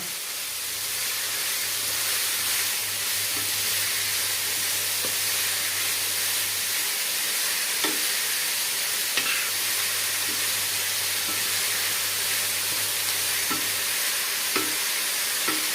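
Radish stir-fry with ginger sautéing in a pan, a constant hissing sizzle with scattered light stirring taps and a low steady hum underneath, no talking.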